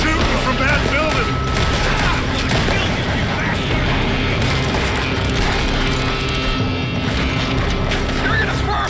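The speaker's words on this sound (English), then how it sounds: "Kill that bastard! They're shooting from that building." Gunfire crackles through a Red Dead Redemption 2 shootout, dense and continuous with clattering mechanical bursts, while voices shout over the chaos.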